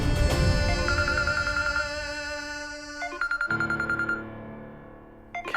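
A phone rings with a repeating electronic melody, loud and close, its tones pulsing in short rhythmic bursts over several seconds.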